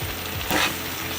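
Pepper steak with beef and garlic stirred in a hot pan, a steady sizzle with a brief louder scrape and hiss of stirring in the middle, close and alone.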